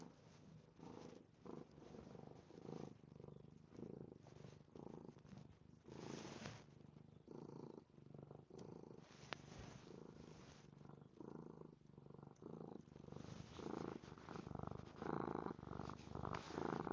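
Kitten purring, a very faint, close, continuous rhythmic rumble with soft pulsing that carries on steadily for the whole stretch.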